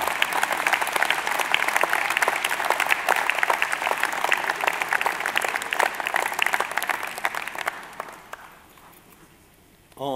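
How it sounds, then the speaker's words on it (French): Loud, sustained applause from a large audience at a New Year's speech in the Zénith arena, Dijon, dense clapping that fades out near the end. "Vous pouvez applaudir"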